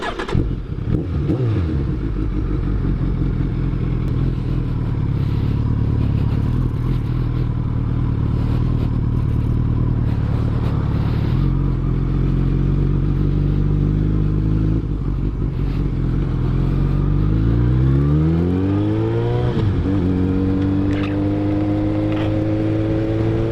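A first-generation Suzuki Hayabusa K7 motorcycle engine runs steadily and loudly up close for the whole stretch, with rising revs and a clear gear-change sweep toward the end as it rides off.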